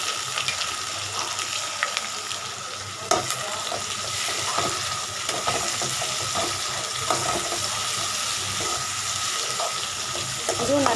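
Tomato, about 50 grams, sizzles and fries in a pan of poori masala, a steady close hiss with scattered stirring scrapes and soft clicks across the whole stretch, with no talking.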